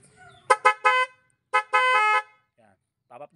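A motorcycle horn being tested blares in a few short toots followed by a longer held blast, loud and close, with brief pauses between them.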